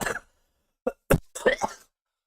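A man coughs several times in short, dry bursts, a brief one, then a pause before two or three quicker coughs close together, near and fairly loud with silence between.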